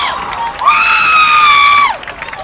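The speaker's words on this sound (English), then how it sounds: "Crowd loves it." A crowd at a high school lacrosse game cheers and shouts after a goal, with a loud, sustained burst of voices and a high whoop that swells and then fades.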